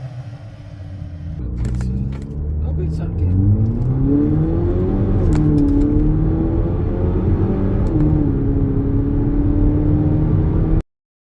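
A 2025 Haval H6 GT coupe SUV launches hard from a standstill, its engine rumbling then revving up through rising gears in a loud, close, sustained acceleration that cuts off abruptly at the end.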